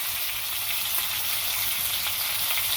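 Fish frying in hot oil in a home kitchen gives a steady, dense sizzle with soft crackling that runs unbroken and close from start to end, with no voices.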